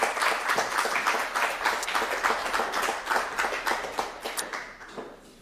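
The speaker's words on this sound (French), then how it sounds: "Applaudissements pour Anne Glaise." An audience at a launch event for a solidarity mobility prize applauds, a dense run of overlapping hand claps that holds steady and then tapers off near the end.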